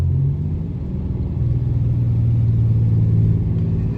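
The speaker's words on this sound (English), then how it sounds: "There's the engine brake, the exhaust brake working." A loaded truck descends a hill with its engine brake and exhaust brake working, producing a loud, close, steady low droning rumble that swells slightly midway and holds without a break.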